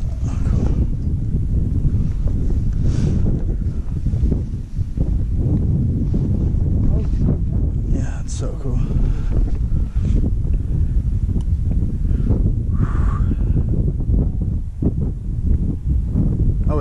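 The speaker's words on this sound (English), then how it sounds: "That's just the wind." Wind rushes across a mountainside on Mt. Triglav, Slovenia, in June, a steady low roar buffeting the microphone throughout with only faint hints of other sounds.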